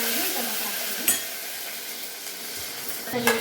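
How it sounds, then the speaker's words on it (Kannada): Mustard seeds, cumin, curry leaves and onion sizzle steadily in hot oil for sambar, a dense close frying hiss with a few clinks of a utensil against the pan, and no talk over it. "ಸಾಸಿವೆ ಹಾಕ್ತಾ ಇದ್ದೀನಿ ಎಣ್ಣೆ ಕಾದಿದೆ ಜೀರಿಗೆ ಹಾಕ್ತಾ ಇದ್ದೀನಿ"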